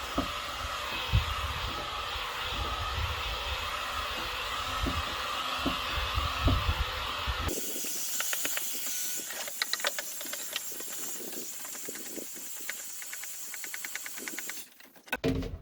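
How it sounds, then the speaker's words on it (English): Heat gun blowing hot air to flash dry paint on a Mossberg Maverick 88 shotgun, a steady close hiss and whir that runs throughout, changing character midway, with faint ticking handling noises and a brief drop near the end. "Now I'll just take my heat gun. And I'll just go ahead and flash dry it."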